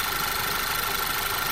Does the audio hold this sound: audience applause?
no